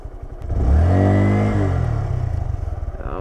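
A 2018 Honda Grom stunt motorcycle engine revs up loudly close by, holding a strong droning note before settling into a steady, pulsing idle with some clatter, heard alone.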